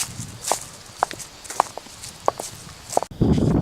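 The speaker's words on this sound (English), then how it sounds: "at the beginning, the footsteps included both artificial and real sounds" Sound-effect footsteps, a mix of artificial and real recordings, land as a series of crisp, fairly evenly spaced steps about half a second apart, close and distinct over a faint background. A louder rustling burst follows near the end.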